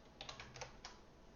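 Several quick key taps on a computer keyboard during Flutter programming work, clustered in a short burst and then trailing off, close and fairly quiet with no talk.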